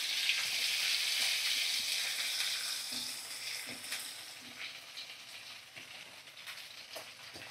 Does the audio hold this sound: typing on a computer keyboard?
no